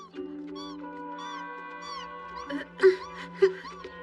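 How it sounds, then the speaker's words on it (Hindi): High, thin mewing from a very small kitten in a Doraemon cartoon repeats over a steady hum, with faint voices talking nearby. "ये तो बहुत छोटा बिल्ली का बच्चा है"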